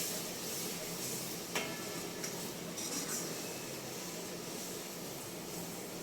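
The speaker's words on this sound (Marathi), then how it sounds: "आता ही सगळी भाजी घालायची पुन्हा एक सारखी हलवून घ्यायची" Cooked vegetables being stirred into a pot of Puneri alu chi patal bhaji, the colocasia-leaf curry, with a soft, steady scraping and a few light clinks against the pot under a constant kitchen hiss.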